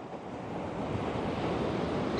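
Pacific Ocean surf at Miramar Beach in Montecito, a steady broadband wash of breaking waves with wind buffeting the microphone, loud and close.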